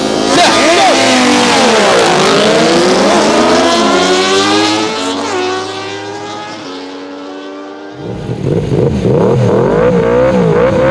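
A 200 HP Yamaha R1 superquad, a 570 HP McLaren and a 125 HP GSX-R launching in a drag race, loud rising engine roars climbing through the gears, briefly fading, then surging back close up.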